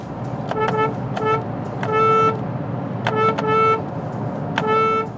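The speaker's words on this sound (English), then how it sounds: "What is that horn?" A Hyundai Exter's small, nasal horn honks in short bursts, several quick toots and a couple of longer blasts, loud and close.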